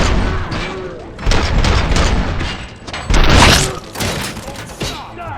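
Rapid bursts of gunfire and booming impacts fill a firefight in the video game RoboCop: Rogue City, loud and dense with crashing, shattering hits and a heavier blast midway.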